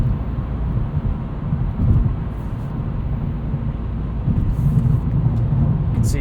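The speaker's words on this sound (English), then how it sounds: "There's a little bit of wind and road noise, especially from these 19-inch high-performance Pirelli tires." Steady wind and road roar inside a moving 2021 Hyundai Veloster N DCT riding on 19-inch high-performance Pirelli tires, a constant low rumble with hiss that holds level throughout and swells slightly now and then.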